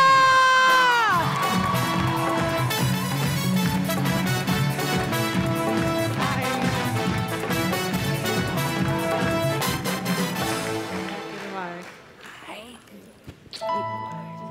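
Applause and cheering from a crowd greeting TV star Sana Fakhar on stage at a show, a dense roar that holds for about ten seconds, with music and a host's voice over it before it dies away.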